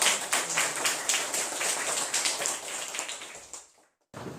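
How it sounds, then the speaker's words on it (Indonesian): Students in a classroom clap for their classmates, a brisk burst of many overlapping hand claps, close and lively, fading out and stopping abruptly near the end. "Tepuk tangan dulu buat teman-teman"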